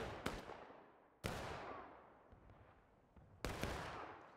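Three separate musket shots crack out in the Civil War video game War of Rights, each a sharp report with a long, fading echo, faint and distant with quiet gaps between them.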